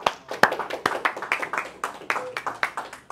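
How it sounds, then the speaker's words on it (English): A small group claps in a quick, uneven burst of sharp hand claps lasting a few seconds, fairly close and moderately loud. "Nice round of applause."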